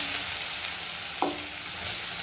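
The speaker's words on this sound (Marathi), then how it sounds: "तूप छानपैकी गरम झालाय। त्यामध्ये आपण किसलेला गाजर टाकूया।" Grated carrot fries in hot ghee for a sugar-free carrot halwa, producing a continuous close sizzle and hiss. A single brief clink of a utensil sounds partway through.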